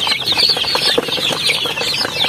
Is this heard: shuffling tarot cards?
no